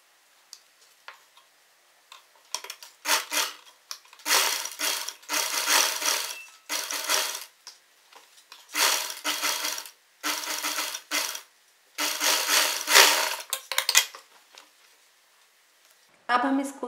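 Sewing machine stitching along a canvas edge while sewing a side slit long kurti, with repeated close bursts of fast rattling stitching separated by short pauses.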